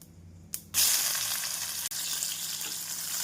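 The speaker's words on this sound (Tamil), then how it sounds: "நாம் காய்ந்த மிளகாய் ஒன்று போட வேண்டும் நாம் வெங்காயத்தை சேர்த்து விடலாம்" Onions frying in hot oil with mustard seeds and a dried chilli for brinjal rice. A steady, loud sizzle rises sharply as the onions go in and continues unbroken, with no talking.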